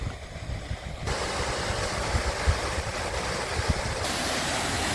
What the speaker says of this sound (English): coming up to the waterfall. You can hear it